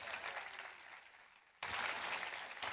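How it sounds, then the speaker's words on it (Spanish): A church congregation claps for the Lord at the close of a sermon, a faint, distant wash of applause that dips briefly and then swells again. "Un aplauso al Señor."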